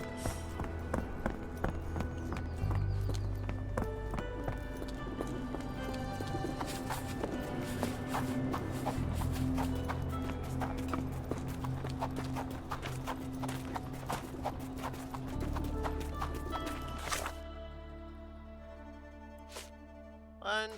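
Horses clip-clopping in the Sherlock Holmes The Awakened remaster game, steady hoofbeats under music and ambience for most of the stretch before everything drops away near the end.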